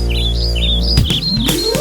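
Small birds chirp in quick repeated tweets over sustained musical notes of a children's song, the calls bright and high above the accompaniment.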